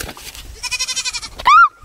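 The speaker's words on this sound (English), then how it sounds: "Oh my gosh, the goats really want some." Goats on a farm bleat close by in a pulsing, wavering run of cries, then one loud rising call ends sharply, with faint background sounds underneath.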